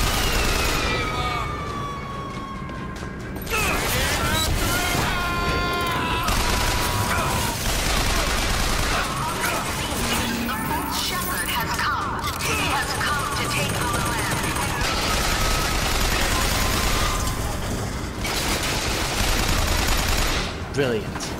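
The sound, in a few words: machine gun firing in Bioshock, from a video game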